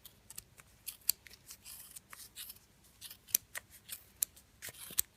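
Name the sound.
scissors cutting pom pom yarn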